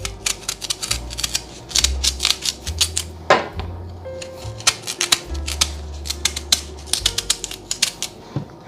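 A sharp knife chops through raw yams on a cutting board in quick, irregular taps and thuds, loud and close, with small pauses between cuts.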